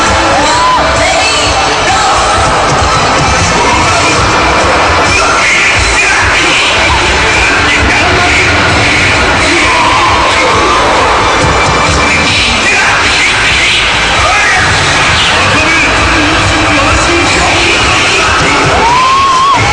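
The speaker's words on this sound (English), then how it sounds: "Did you hear that moron that screamed?" Loud, dense convention crowd at a cosplay event, with yells, whoops and shouts rising out of a constant roar of voices, including a sharp scream near the end.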